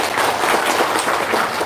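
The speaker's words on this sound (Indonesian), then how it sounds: "Tepuk tangan dong." Audience applause at a testimonial gathering, a dense steady wash of many hands clapping together for a short burst, fairly loud and continuous with no clear pauses.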